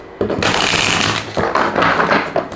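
A deck of tarot cards is shuffled up close, giving a loud, dense riffling flutter that runs in two long bursts with a brief pause between them.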